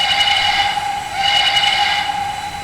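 A Pennsylvania Railroad Banshee steam whistle in Trainz 2019, modeled on the one worn by Reading and Northern 462, sounds two loud sustained blasts with a brief dip between them, a steady chime tone under a breathy hiss.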